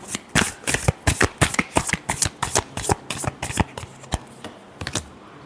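Tarot cards are shuffled in a rapid run of crisp riffling slaps and flicks, close and fairly loud, with brief pauses between bursts and no one speaking.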